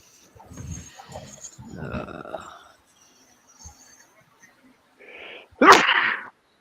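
A single sharp, close sneeze bursts out after a stretch of people talking and a few quiet moments.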